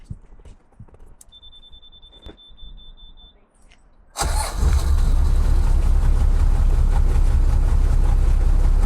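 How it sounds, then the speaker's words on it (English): An old diesel engine on a UK canal boat cranks and bursts into loud, steady running about halfway through, after quieter clicks, taps and a brief tone. "let's start the engine now."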